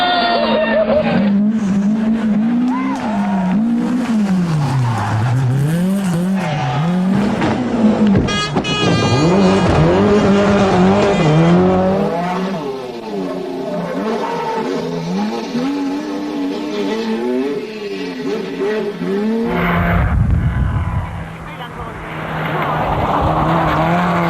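Old 1980s–90s rally cars race along a dirt stage, engines revving hard and rising and falling in pitch, with tire skids mixed in and voices talking over the action.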